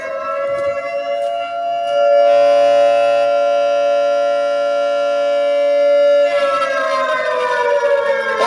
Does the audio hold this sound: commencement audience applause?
no